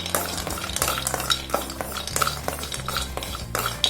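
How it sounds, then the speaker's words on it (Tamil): A spoon scrapes and taps against a pan as cashews are stirred and lightly roasted, giving irregular metallic clinks over a soft, steady sizzle, close by and fairly quiet. "இதையும் வந்து லைட்டா வறுத்துக்கோங்க."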